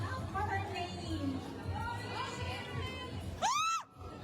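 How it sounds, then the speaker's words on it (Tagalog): Crowd of Kim Chiu fans at a ribbon-cutting event shouting and cheering together, a loud sustained mass of voices, ending with a rising whistle-like squeal before dropping off. "Mga fans of Kim Chiu, I would like to hear you shout for her name."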